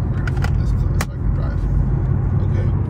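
A supercharged Roush Mustang engine cruising in second gear, a loud, close, low rumbling drone with a few brief clicks and rattles over it.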